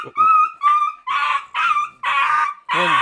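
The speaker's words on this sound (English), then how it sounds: "got a upset dog behind me" A distressed dog whimpers and yelps in a rapid series of high, wavering cries, about six close, loud bursts with short gaps between them, each rising and falling in pitch and heard alone without talk.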